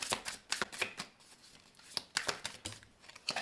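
Tarot and oracle cards being shuffled for a reading, a quick run of soft papery riffles and slaps in irregular bursts, close and quiet with no voices.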